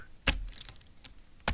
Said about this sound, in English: She do be a bit rattly though.